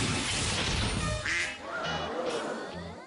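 Repeated cartoon duck quacks, loud and close, a series of nasal calls over a dense busy background.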